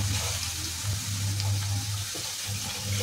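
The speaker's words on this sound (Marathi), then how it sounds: "तर गरम पाणी टाकायचं त्यामध्ये" Hot water is poured into Kolhapuri mutton curry (tambda rassa) in a pan, giving a steady, quiet splashing stream that lasts about three seconds.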